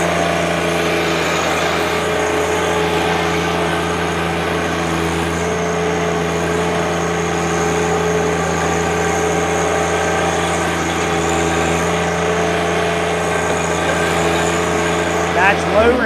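2018 John Deere 1025R 24 HP diesel sub compact tractor with loader and 60-inch belly mower, engine running steadily with a constant tonal hum while reversing, close and loud throughout, with a short clunk at the very end.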